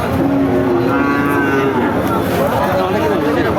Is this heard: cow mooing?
yes